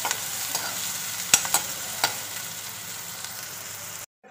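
Mustard seeds, curry leaves, green chillies and onion fry in a pan with a steady soft sizzle. A few sharp pops and clinks of stirring sound near the start, and the sound cuts off abruptly at the end.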